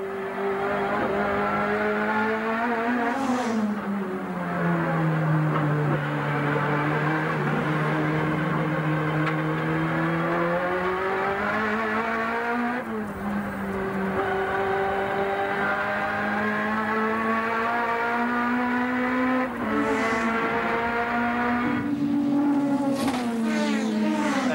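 Ford Sierra touring race car at speed on the Lakeside circuit in the 1988 touring car championship, heard from inside: a loud, continuous engine drone that rises and falls through gear changes and revs, with no talk.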